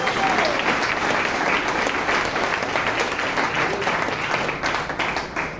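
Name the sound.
congregation applause in church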